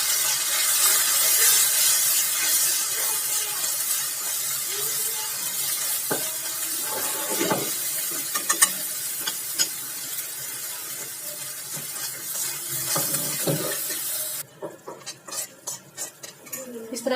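Tomato with turmeric, salt, chilli and coriander fries in a pan, a bright sizzle with scattered metal spoon clinks and scrapes, quieting toward the end into sharper clatter, no speech.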